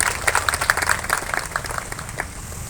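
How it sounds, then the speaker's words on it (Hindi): An audience applauding to welcome a guest at a fair's closing event, brisk scattered clapping that starts strong and gradually thins toward the end, with no speech. "तालियों से स्वागत करें।"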